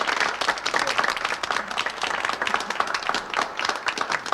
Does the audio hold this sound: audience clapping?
yes